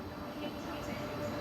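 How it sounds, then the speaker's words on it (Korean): A KTX high-speed train in motion gives off a steady, even interior rumble, broadband and unbroken for the whole moment, with a faint voice blended into the background. "5시 11분 열차를 타고 집으로 갑니다."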